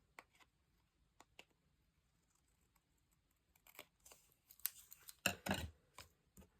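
Scissors cut paper for a junk journal in a quiet room. Scattered faint snips come first, then a denser run of crisp cuts and paper rustles near the end.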